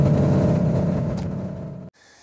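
A Porsche's engine howls loud and close at sustained high revs while lapping the Nordschleife, then cuts off abruptly near the end, leaving only faint wind and road noise.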